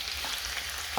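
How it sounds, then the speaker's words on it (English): Garlic and tomatoes fry in a hot pan, a steady close sizzle with a light stir or clatter at the very end. "I'm going to add the garlic and add the tomatoes as well."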